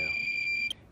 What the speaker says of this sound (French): L'alarme se déclenche.